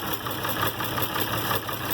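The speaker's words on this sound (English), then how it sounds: "Now she's idling." An IH Farmall 706 tractor with a newly fitted carburetor idles up close, a steady, slightly uneven mechanical chugging with a throbbing pulse and no voices over it.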